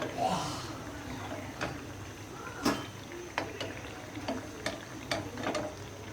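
Eggplant fritters (beguni) frying in hot oil, a soft continuous sizzle broken by sharp clicks and taps of a utensil against the pan, at moderate level.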